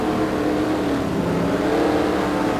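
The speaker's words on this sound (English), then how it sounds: "Drivers passing by on the track, staying out for a little bit, and then pitting." Race cars in a NASCAR video game lap a virtual Lowe's track, a steady dense engine drone that holds at an even loudness without distinct pass-bys.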